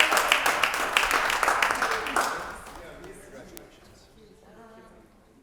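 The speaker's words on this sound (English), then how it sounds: "Can we give him a round of applause for his service" A council meeting audience gives a round of applause, with brisk dense clapping for about two seconds that then thins and fades, leaving faint murmuring and shuffling in the room.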